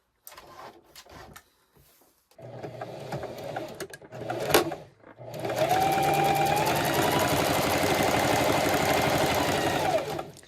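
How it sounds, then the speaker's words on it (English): A sewing machine runs a straight stitch along the flat edge of fabric for a beginner kitchen decor project. After a few short, softer bursts, it settles into a loud, steady, fast-pulsing whir that lasts about five seconds and then stops. "lay the fabric down flat on the edge and then sew a straight stitch again"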